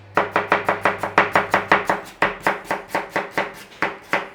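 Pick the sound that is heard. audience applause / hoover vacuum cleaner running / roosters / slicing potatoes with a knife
slicing potatoes with a knife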